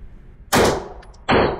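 Two loud, close shots from a Smith & Wesson SD9 pistol during rapid fire at a range, sharp cracks about three-quarters of a second apart.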